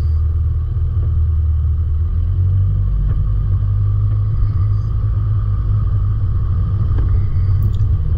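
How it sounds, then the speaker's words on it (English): 4WD car climbing over a rocky step on a bush track between Mt Pinnibar and Mt Gibbo, a loud low engine rumble and drone held steady throughout, with faint knocks from the rough ground. "let the car do the work, and we've climbed up over that one"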